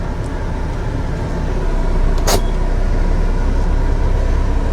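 Winnebago Journey diesel pusher motorhome running and driving, a steady broad low rumble with road and engine noise throughout, close and fairly loud, with a brief higher hiss partway through and no talking.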